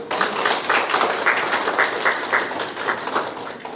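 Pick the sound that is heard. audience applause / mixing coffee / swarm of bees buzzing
audience applause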